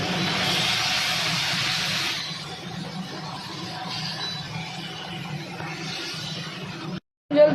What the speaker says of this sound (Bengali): এবার আমি গরম জলটা অ্যাড করে দেবো